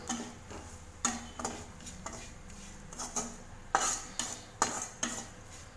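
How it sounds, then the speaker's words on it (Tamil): A spoon stirs masala powder into onions in a kitchen pan, tapping and scraping against the metal in a series of sharp clicks about every half second. A faint sizzle runs underneath. "மசால் பொடி நல்லா மிக்ஸ் பண்ணி விடுங்க மிக்ஸ் பண்ணிவிட்டு லேசாக வதக்கி விட்டால் போதும்"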